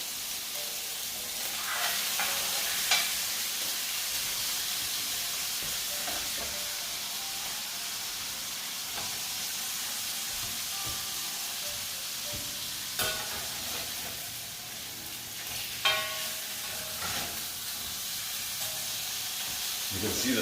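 Beef medallions with garlic and turmeric sizzle steadily in a hot cast iron pan, a continuous close hiss broken by occasional stirring scrapes and light clatters.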